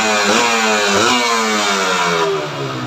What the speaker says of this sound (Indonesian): Nah, pas gasnya kembali bunyi pistonnya, bunyi sedikit.